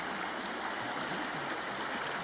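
Arkansas River rapids rush in a steady, broadband roar of churning white water, close and continuous with no voices.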